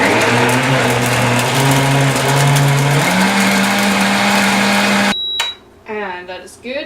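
A new blender whirs loudly while blending sorbet, its motor pitch stepping up partway through, then cutting off abruptly, after which a person talks.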